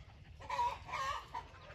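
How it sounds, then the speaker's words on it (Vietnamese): Domestic chickens clucking nearby, a few short throaty clucks in a loose rhythm over a low background hum. "Gà nhà bà em nuôi."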